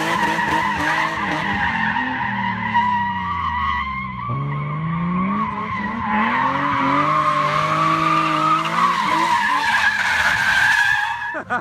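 Tires squeal loudly as a BMW E30 slides through a drift, the engine droning and shifting pitch underneath the long, continuous screech.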